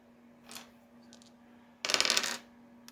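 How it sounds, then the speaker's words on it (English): Dice rattle and clatter across a hard surface in a quick burst of rapid clicks, preceded by a couple of fainter taps, close and fairly loud in an otherwise quiet room. "Roll the dice."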